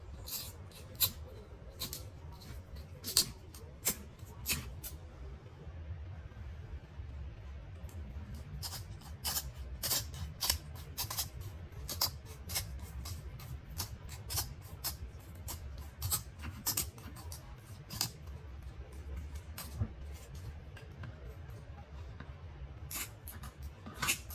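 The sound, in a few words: trimming the skin off a giant fish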